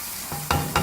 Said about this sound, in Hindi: अब इसको मिक्स करेंगे अच्छी तरह से।